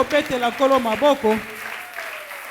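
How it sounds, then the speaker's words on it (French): A church congregation claps and cheers for the Lord during a French-language sermon, a short loud burst of applause that swells and then fades out over a couple of seconds. "Est-ce que quelqu'un peut acclamer pour le Seigneur?"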